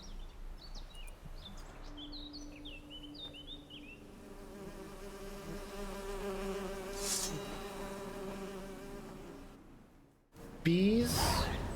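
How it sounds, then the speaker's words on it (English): Bees buzz steadily in a sunny outdoor setting in the video game Witcher 3, with a close, continuous drone, a few bird chirps early on and a brief louder burst near the end. "The birds singing, the bees buzzing."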